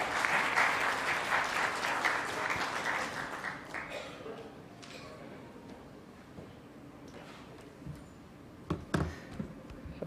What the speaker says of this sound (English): Can we have a huge round of applause for Amit sir?